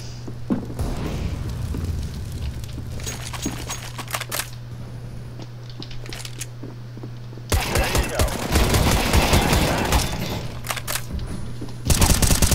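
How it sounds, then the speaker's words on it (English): Gunfire in Counter-Strike GO pierces a wall: repeated bursts of rapid automatic shots with sharp single cracks, loud and close, broken by short pauses, then a denser, sustained volley. "Shooting through the wall"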